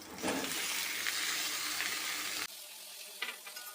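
Green jackfruit pieces hit a hot pan with a loud, broad sizzle as they are stirred. The hiss cuts down sharply partway through and then continues more softly, with a few scraping touches near the end.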